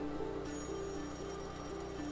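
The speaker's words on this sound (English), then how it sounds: "Could someone please answer this damn phone?" A telephone rings repeatedly in a video game, an electronic ringing tone that pulses in a steady rhythm over a constant background hum, with no voices.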